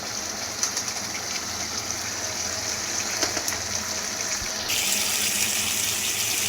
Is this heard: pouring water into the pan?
yes